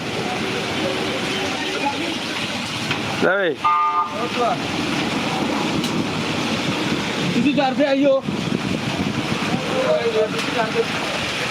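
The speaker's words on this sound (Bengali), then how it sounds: "মোটামুটি বাতাস দিচ্ছে, বৃষ্টি হালকা কমেছে এবং হালকা পাতলা বৃষ্টি এখনও রয়েছে" Wind gusting steadily with light rain during a storm in Sylhet, a continuous broad rushing roar filling the whole stretch, with brief bursts of people talking over it.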